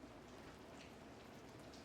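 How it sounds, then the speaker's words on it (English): Rain thrums against a window in a steady, faint patter of drops, with no voices. "the rain was thrumming against the window over the sink"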